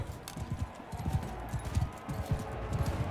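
Horse hooves clip-clop in a steady, rhythmic patter from a mount in the Mount & Blade II Bannerlord video game, with soft, fairly quiet thuds repeating throughout against a low background bed.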